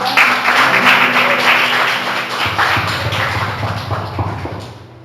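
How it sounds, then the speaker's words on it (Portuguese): Church congregation applauding at the close of a Sunday service, a dense, steady patter of many hands clapping that holds loud for several seconds, then thins out and fades toward the end under a low murmur. "Uma salva de palmas."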